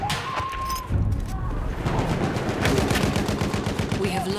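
Rapid machine gun fire rattles in the Battlefield 1 Fort de Vaux operation, a loud sustained burst of gunshots with battle noise behind it, lasting several seconds.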